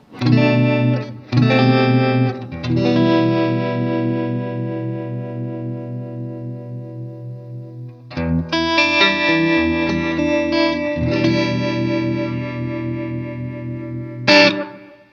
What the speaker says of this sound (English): he chose this dominant 7th, the sharp 9